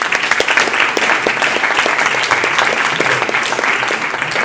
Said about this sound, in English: So please give a round of applause for Thomas.